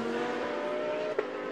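GT race cars battle wheel to wheel at Zandvoort during a GT World Challenge race, a steady engine whine holding its pitch, then breaking off suddenly with a short sharp burst as the note cuts.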